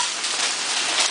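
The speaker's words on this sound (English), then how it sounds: "It's just hail." Hail pours down outdoors in a dense, continuous hiss of pelting ice that holds steady and loud for about a second, with no voices.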